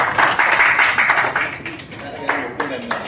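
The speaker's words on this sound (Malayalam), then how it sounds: "കയ്യടി പോരാ" An audience claps in a rapid, uneven patter of hands for about three seconds, fairly close and clear, with no voices over it.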